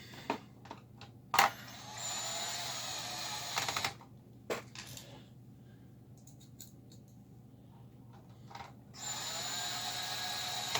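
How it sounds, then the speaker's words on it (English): Screws being driven into the back panel of a Technical Pro AX5000 power amplifier, with bursts of whirring and ratcheting from a screwdriver separated by quiet pauses, close and fairly faint. "So I'm just putting the screws on the back."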